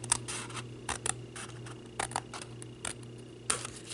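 Scissors trim cardstock for a sparkly Christmas ornament tag: a string of short crisp snips at an uneven pace, close and fairly quiet, with no voices.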